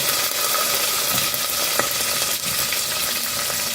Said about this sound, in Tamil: இப்போ பச்சை மிளகா கருவேப்பிலை இதெல்லாம் போட்டுக்கலாம் வெள்ளை வெங்காயம் போட்டு